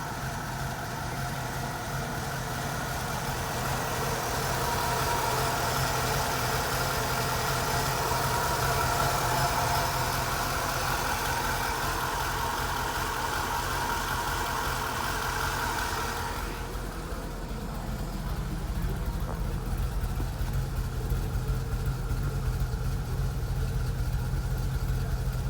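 A 1974 Ford Bronco engine runs at a steady idle for a long stretch, a constant mid-low drone that turns rougher and lower around the middle, close by with no talk over it.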